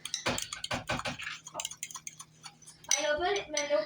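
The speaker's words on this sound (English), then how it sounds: "you're just going to give the sugar, mustard, and ketchup a nice mix until it's well blended" Sugar, mustard and ketchup glaze being mixed in a bowl, a quick run of close utensil clinks and taps against the dish, then a softer scraping swirl near the end.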